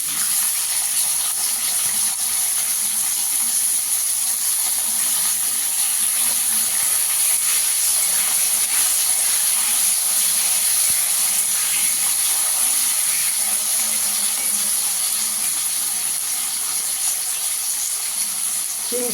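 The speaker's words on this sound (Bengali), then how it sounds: "শিমটা দিয়ে একটু ভাজা ভাজা করে নেব" Beans go into a pan with potatoes already frying, giving a steady, loud, unbroken hissing sizzle that runs for the whole stretch without talk.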